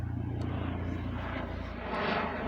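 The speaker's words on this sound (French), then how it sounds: "merci l'hélicoptère qui passe, qui fait fuir les corneilles" A helicopter passing overhead a woodland where crows are scattering, heard as a steady distant rotor and engine drone that swells slightly toward the end, with no talking.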